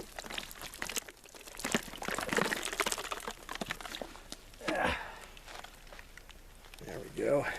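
Water is poured over a muddy SKS rifle during a mud test, with splashing and dribbling bursts between handling noises and spoken remarks.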